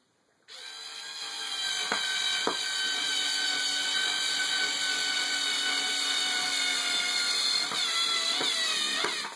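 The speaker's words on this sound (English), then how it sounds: "now I can take a screwdriver and fashion my character to the board" A powered screwdriver drives a screw through a pre-started hole to fasten a Sculpey clay maquette figure to a board, giving a steady high-pitched whine close by with a few brief clicks and no talk.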